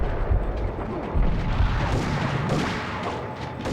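Bursts of gunfire from the video game Max Payne, loud booming shots and rattling volleys close by, repeating through the moment with some speech mixed in.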